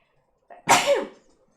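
A single sharp sneeze breaks a near-silent moment, preceded by a quick intake of breath and trailing off into a brief exhale.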